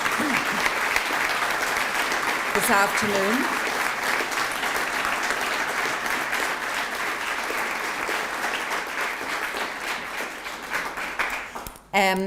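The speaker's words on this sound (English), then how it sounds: "So maybe another just round of applause for all of the recipients" Sustained applause from a large crowd fills the room at the National Bravery Awards 2019 ceremony, steady and dense throughout, with a person speaking briefly over it before it cuts off at the end.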